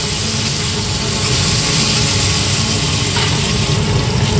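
Cut potatoes frying in a pan with a little salt, a loud continuous sizzling hiss with low bubbling rumble underneath, close and steady with no speech.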